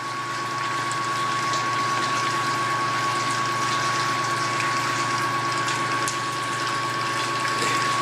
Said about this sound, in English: we got the boil leaving from the boil pot. Hot as hell, traveling through the pump, through the chiller